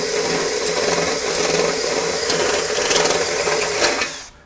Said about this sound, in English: So now I've got a pilot hole and I can take my step bit.